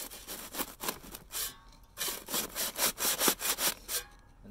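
A trowel scrapes and works wet concrete while a curb is being shaped, producing a series of rhythmic rasping strokes, close and moderately loud, with brief pauses between passes.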